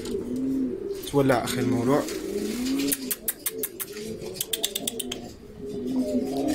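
Sifianos pigeons coo in a loft in soft, repeated low calls, joined by a louder burst of cooing and scattered clicks, while someone talks over them.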